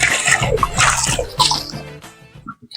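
A cooking pot being washed with water, splashing and sloshing close up with a few drips as the water trails off at the end.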